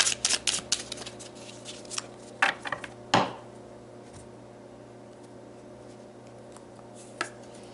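Tarot cards shuffled by hand at close range, several quick riffling bursts followed by sharp taps, then a long quiet stretch with faint room hum.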